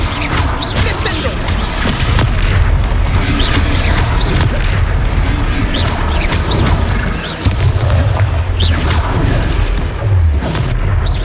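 Descendo spell impacts during a Hogwarts Legacy boss fight: heavy repeated booms and crashing thuds over a constant loud rumbling backdrop, with whooshes and sharp hits throughout, one brief dip before the barrage resumes.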